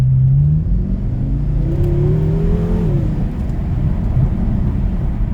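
A BMW M6 F06 4.4 V8 twin-turbo engine with hi-flow 200-cell downpipes drones steadily from inside the cabin, its pitch rising and falling gently as the car accelerates, smooth and fairly subdued.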